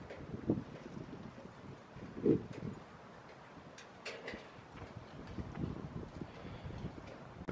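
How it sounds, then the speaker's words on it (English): Strong gusting wind during an LA wind storm buffets outdoors in uneven, rushing surges, with a few sharper thumps of gusts hitting close by, fairly quiet overall. "Very, very unordinarily windy today."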